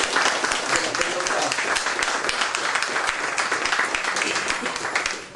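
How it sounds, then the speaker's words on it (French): Loud audience applause for two association members, dense continuous clapping from a sizable crowd that holds steady and then fades at the end. "J'aurais aimé qu'on leur fasse un petit applaudissement."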